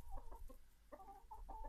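Two roosters, a red one and a multicoloured one, cluck in a short series of close, clear calls at a backyard poultry flock, alone without talk.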